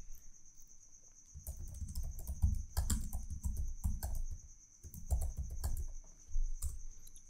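Fingers tap out a cover-page title on a computer keyboard in the WPS Office suite: quiet, close bursts of rapid keystrokes separated by short pauses, over a faint steady hum.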